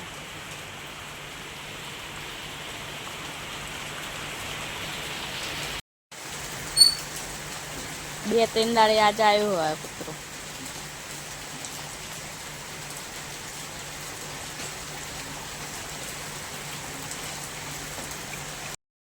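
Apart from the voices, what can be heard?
rain falling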